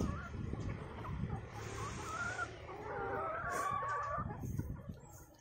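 Brown Nick laying hens cluck and squawk close by while being fed fruit, a busy overlapping flock chatter with a few louder rising calls.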